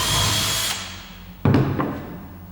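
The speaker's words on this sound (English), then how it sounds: "I've got the 3mm drill bit" A power drill with a 3mm bit bores a pilot hole in wood for a planter: a high whirring run that stops abruptly, then a short burst of handling and clattering noise close by.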